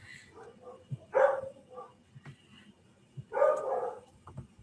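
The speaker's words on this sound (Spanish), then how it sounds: "Perdón, es mi perro." A pet dog barks in two loud bursts inside a home, with short yips and whimpers between them and no talk over it.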